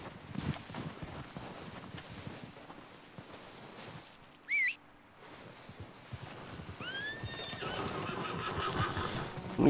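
In Red Dead Online, hooves clip-clop on the ground throughout, and a horse gives a short, loud whinny midway. A few fainter high calls follow near the end.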